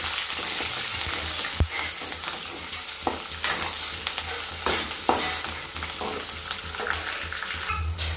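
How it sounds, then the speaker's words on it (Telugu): Cumin, dried red chillies, curry leaves, garlic cloves and onion sizzling loudly in hot oil in a pan, with steady frying hiss and occasional stirring clinks and scrapes throughout, no voices. "పోపును బాగా వేయించుకోవాలి."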